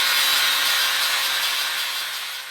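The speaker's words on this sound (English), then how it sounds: "I'm going to be grinding off that little lip on both of them." A power grinder takes a lip off Honda Grom tail light brackets, a close, loud continuous abrasive whir that holds steady and slowly fades over a couple of seconds.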